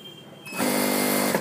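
A sewing machine starts up and runs in one loud, close burst, stitching the folded hem of a girl's frock, with a quieter room tone just before it and no talking.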